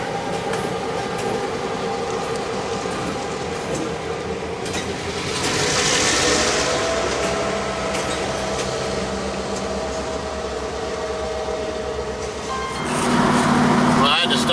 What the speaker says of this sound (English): Hang on, I'll let this train pass by.